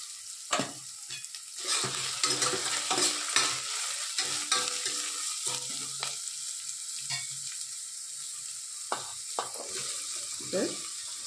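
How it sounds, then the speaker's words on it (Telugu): Meal maker soya chunks fry in a pan with a soft sizzle, broken by frequent, irregular scrapes and clinks of a spoon as they are stirred, and no one talks. "ఈ మీల్ మేకర్ కొంచెం వేయించండి, స్మెల్ రాకుండా ఉంటుంది."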